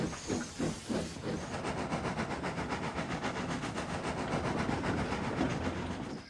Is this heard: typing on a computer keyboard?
no